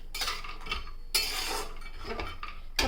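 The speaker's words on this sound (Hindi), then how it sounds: "अब हम एक कढ़ाई चढ़ाएंगे, 2 चम्मच घी डाल देंगे। इसमें आधा कटोरी बादाम डाल देंगे।" Half a bowl of almonds tumbling into two spoons of hot ghee in a kadhai, giving a close clatter of nuts against metal with stirring scrapes and sharp clinks near the start, middle and end.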